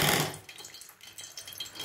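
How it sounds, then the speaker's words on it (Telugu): Water is splashed into hot sugar syrup while making Mysore pak, giving a brief loud pour at the start that settles into a faint, quieter bubbling hiss. "కొంచెం వాటర్ వేస్తున్నాను"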